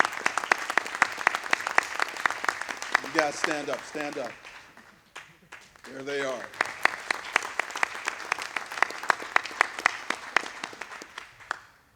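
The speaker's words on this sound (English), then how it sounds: "let's just give them, well, we have 4. Okay, a round of applause." An audience at a city economic-trends presentation applauds interns, with steady clapping throughout and someone talking over it briefly in the middle.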